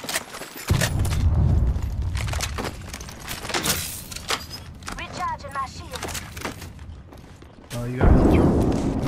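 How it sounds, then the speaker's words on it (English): Grenade blast in the Apex Legends battle royale shooter, a deep boom near the eight-second mark rising over continuous gunfire, impacts and game effects, with players talking throughout. "Throw my grenade out."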